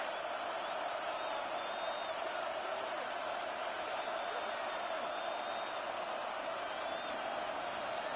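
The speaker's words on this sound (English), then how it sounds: "This crowd doing everything they can before 3rd and goal." A football stadium crowd roaring before a 3rd-and-goal play, a steady distant wall of crowd noise with faint whistles, sustained and even throughout.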